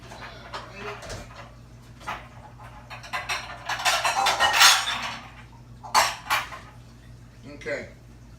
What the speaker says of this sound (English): So let me grab a bowl here.